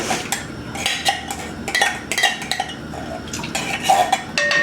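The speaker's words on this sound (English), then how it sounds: "I'm going to add in the diced tomatoes." Diced tomatoes with green chilies going into a pot of chicken tortilla soup, heard as loud, close clattering of a can and utensil against metal with wet plops and scraping, busy and continuous with no talk.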